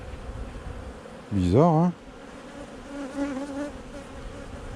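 Honeybees swirl around and beneath the hives at a seaside apiary in May, a close buzzing drone with one loud rising pass of a bee flying near, then softer buzzing, and a person speaks briefly.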